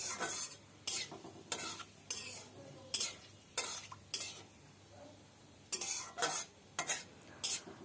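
Whole cardamom pods, cloves, a bay leaf and a dried chili temper in hot oil for a cabbage and potato curry, with a steady run of scraping spoon strokes over a faint sizzle and no talking.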